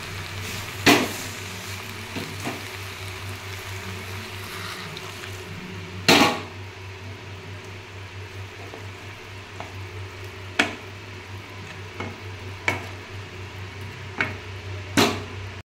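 Water hits a frying paste of ginger, cumin, green chilli and mixed spices for a fish curry, producing a steady, close sizzle broken by a few sharp clinks of a utensil against the pan.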